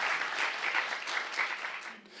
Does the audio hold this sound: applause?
yes